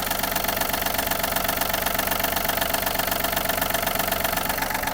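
Small diesel engine of a Yanmar AF-26 Japanese mini tractor runs steadily up close, a dense, loud mechanical clatter with a faint knocking pulse throughout and no voices.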